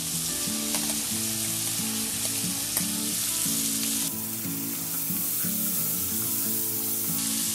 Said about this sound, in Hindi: थोड़ा सा नमक डाल देते हैं। हल्का फ्राई कर लेंगे।